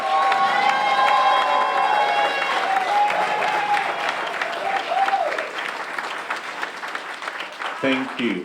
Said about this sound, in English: Please, ladies and gentlemen, help me to give them a very loud round of applause